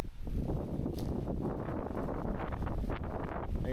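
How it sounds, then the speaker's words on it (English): Strong wind roars steadily across open marsh flats near a kayak campsite, a dense, continuous rushing buffet against the microphone with no voices. "It's really windy."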